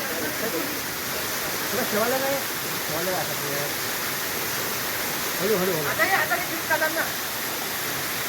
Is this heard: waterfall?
yes